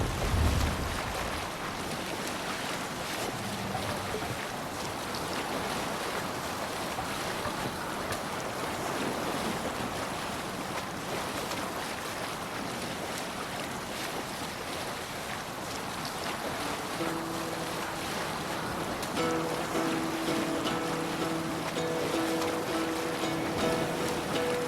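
A Viking longship sails the open ocean in Assassin's Creed Valhalla, with continuous rushing waves and buffeting wind throughout, and a faint tonal hum emerging toward the end.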